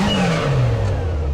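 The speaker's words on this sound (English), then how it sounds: "We got the turbo sounds. Well, supercharger sounds in this case" Kawasaki Teryx5 H2 four-door side-by-side with a supercharged engine revving up close, a loud rising and falling engine tone with a supercharger whine over it.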